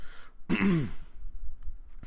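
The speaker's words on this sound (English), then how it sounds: "let me clear my throat" One person clears their throat with a rough, gravelly rasp, close and fairly loud, followed by quiet breathing.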